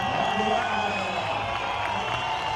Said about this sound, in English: Now the crowd is getting hyped.